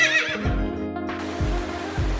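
A horse on a roadside near Kodaikanal gives a loud, close, shrill whinny at the start, followed by a few deep, low snorting rumbles, with no talk.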